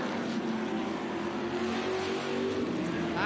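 Vintage race cars roar together at Mid-Ohio in a race for the Trans Am 2 class, a continuous dense engine drone heard from a distance, with faint commentary voices under the noise.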